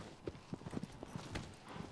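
A horse gallops in Shadow of the Colossus with a quick, uneven clip-clop of hooves at moderate distance, fairly faint over a steady bed of wind and ambient noise.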